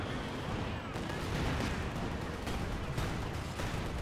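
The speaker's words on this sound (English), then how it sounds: "Artillery's coming in, just wiping them out" An artillery barrage in the World War II strategy game Company of Heroes 2 rumbles as a steady wash of distant booms and crackling gunfire, with several sharper impacts rising above the din and faint voices underneath.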